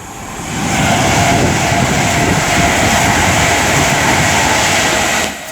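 Class 390 electric train, unit 390-049 bound for Glasgow, passing at Tamworth on the West Coast Main Line with a loud, sustained broadband roar that builds quickly and holds steady for several seconds before cutting away.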